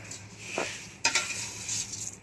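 A spoon scraping and clinking against a pan while pineapple muramba is stirred over low heat, a few distinct metallic scrapes over a soft steady simmer.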